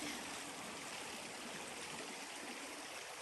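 A creek flowing steadily on shaded property, a soft, continuous wash of rushing and trickling water, faint and even throughout with no voices.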